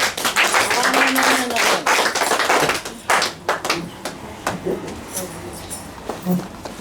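A church congregation claps and cheers in praise of the Lord, dense, loud applause with sharp hand claps that thin out toward the end, with voices mixed in.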